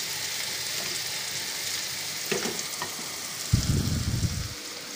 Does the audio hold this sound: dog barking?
no